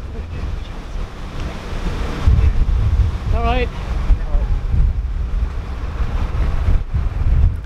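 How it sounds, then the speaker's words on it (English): Strong wind gusting across a canal beside a field, a heavy rumbling buffet on the microphone throughout, loud and close, with a brief high tonal squeak partway through. "that wind was whipping down off the field from the left and it pinned us against this bank"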